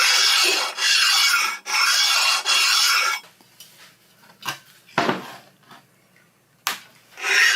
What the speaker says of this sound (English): I'm stoning the faces more directly